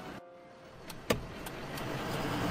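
A car driving through a village and turning into a dark, very quiet alley, heard as a steady low vehicle rumble that swells gradually, with a sharp click or thump near the middle.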